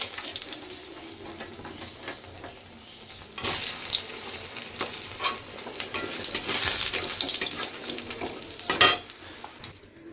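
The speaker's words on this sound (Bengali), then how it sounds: "বড়িটা ভেজে নিচ্ছি।" Lentil dumplings (bori) fry in extra oil in a wok, a loud continuous crackling sizzle with bursts of spatter and stirring clatter, swelling louder through the middle and with no voices.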